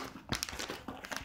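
Sheets of a house purchase contract rustle and crinkle softly and close by as they are slipped into a folder, in a quick series of faint papery crackles.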